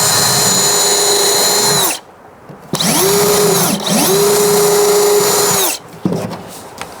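A power drill whines loudly in several bursts, revving up and down as it pre-drills wood for 2.5-inch wood screws, with short pauses between runs.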